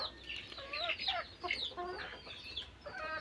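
Turkey hens on a small farm cluck and chatter in quick, bright bursts, several birds calling over one another close by, with no talk.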